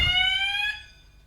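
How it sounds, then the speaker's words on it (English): An indoor building fire alarm sounds during a fire-alarm test, a loud, piercing electronic tone that holds briefly and then fades, with no talking. "The fire alarm just went off."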